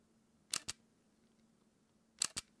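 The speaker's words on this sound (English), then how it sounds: "I can let you hear now on the microphone what's the sound of the shutter" Canon M100 mirrorless camera shutter firing twice, each a quick double click, crisp and close with a long quiet gap between, over faint background hum.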